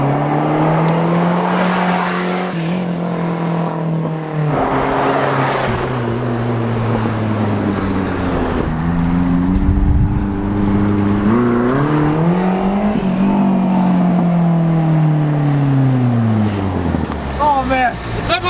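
A homemade turbocharged dune buggy engine drones and revs steadily, its pitch rising and falling as it drives, with people talking over the sound throughout.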